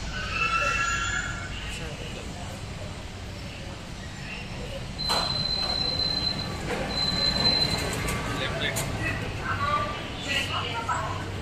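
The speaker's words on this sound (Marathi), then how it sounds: "आता आम्ही ट्रेनमध्ये बसलेलो आहे." Rumbling, rattling ride inside a moving passenger train, with steady wheel noise and occasional high squeals from the rails, while people talk nearby throughout.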